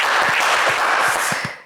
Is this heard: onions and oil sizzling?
no